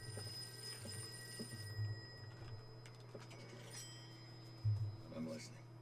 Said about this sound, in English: I'm gonna answer that phone now.